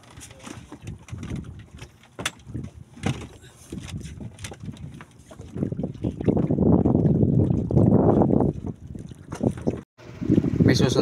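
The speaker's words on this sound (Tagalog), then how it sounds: "So ayan, nakaranas tayo makasakay ng bangka." A small boat travels on the water near Talim Island, with wind buffeting the microphone and water sloshing that grows louder midway, while people talk aboard.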